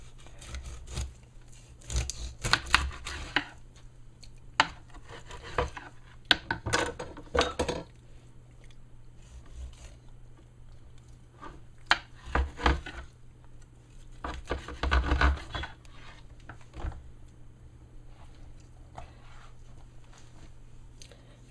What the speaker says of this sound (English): Here I'm gonna show you real quick how I'm gonna cut this fish up